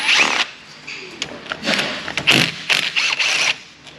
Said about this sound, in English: We're gonna attack these with some 12-point wobbly driveline sockets.